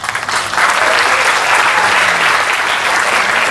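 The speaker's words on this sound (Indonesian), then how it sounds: "Tepuk tangan dong" A crowd at a national dialogue event in Indonesia breaks into sustained applause, a dense wash of many hands clapping that swells quickly and holds steady and loud throughout, with no talk over it.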